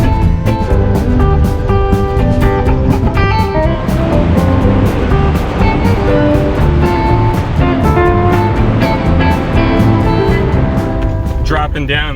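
A 4x4 off-road vehicle in low range crawling down into a creek in the Sierra Nevada mountains, its engine droning loudly with rattling, clunking and rumbling under a man's speech.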